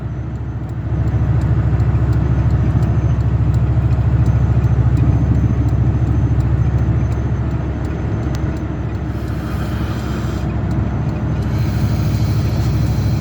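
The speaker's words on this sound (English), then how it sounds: "That's what it's like when you got traffic." Steady low engine and road rumble inside a Dodge Ram 1500 pickup in traffic, a continuous droning hum that starts after a brief quiet moment and holds evenly with no talking.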